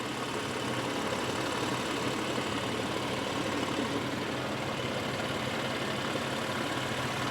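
BMW M4 engine idling in its engine bay, a steady continuous low rumble with broadband hum, unchanging throughout and with no voices.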